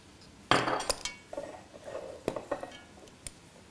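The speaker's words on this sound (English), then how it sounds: "I'm going to start by putting just a couple of tablespoons of each in this little dish" Tablespoons of mint jelly scraped and spooned into a small dish for lamb, giving a sharp clink of metal on the dish followed by softer taps and scrapes, close and fairly quiet.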